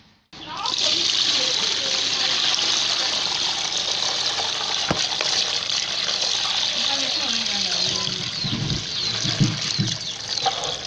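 Beans being washed in water for moi moi: continuous close sloshing and splashing with a steady watery hiss, some trickling and light knocks toward the end.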